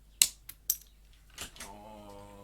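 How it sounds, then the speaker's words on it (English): A cut-off capacitor leg drops onto a computer keyboard during repair of an Xbox One power supply, giving a few small, sharp metallic ticks and clicks close by, followed by a soft voiced sound. "Oh, it fell into my keyboard."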